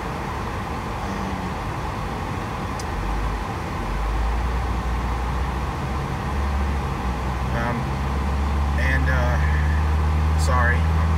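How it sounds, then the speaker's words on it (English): Inside a moving car, a steady low road roar and engine rumble fill the cabin without a break, with a voice faintly present over the drone. "as you can see, I'm driving right now"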